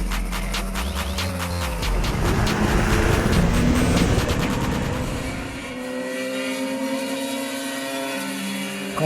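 Small 350 cc motorcycle engine revving hard near Le Mans, a loud rising howl with a strong throttle burst that settles into a steadier drone, no talk.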